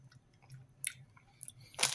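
Crunchy Polish breakfast biscuits being chewed up close in a quiet room, a few crisp bites spaced out and then a louder, fuller crunch near the end, with a low murmur beneath.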